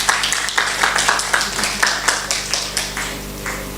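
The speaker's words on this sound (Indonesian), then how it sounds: "Tepuk tangan buat Tuhan Yesus." A church congregation claps along in a steady rhythmic beat during a sermon, a dense crowd of hands striking together at close range and moderate loudness, with faint background hum underneath.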